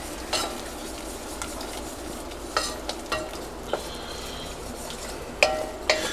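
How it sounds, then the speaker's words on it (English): Butter melting and bubbling in a pan over medium to medium-high heat for bacon mac and cheese, a steady soft sizzle with occasional sharp clinks of a utensil against the pan. "We'll let this butter melt completely. Bring it up to a little bit of a bubble."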